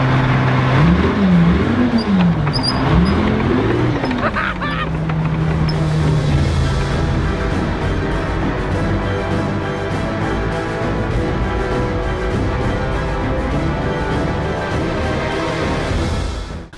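A tank's engine drones loudly and steadily as it drives across mud and grass, with a wavering whine early on that settles into a continuous heavy rumble up close.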